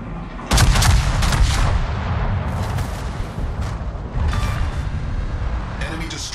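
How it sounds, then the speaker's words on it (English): Heavy naval gunfire and a destroyer exploding in World of Warships, with a sudden loud blast followed by repeated booming salvos, under a voice. "Enemy destroyer blown up."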